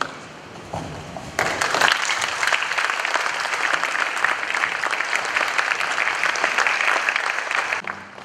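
Audience applause at the Asantehene Otumfuo Osei Tutu II art awards ceremony breaks out abruptly after a quieter opening and holds as a dense, steady wash of many hands before tapering off near the end.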